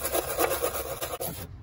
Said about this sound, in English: Now we're just gonna be using some sandpaper. It's 80 grit.